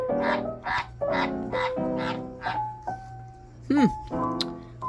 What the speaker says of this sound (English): he's croaking somewhere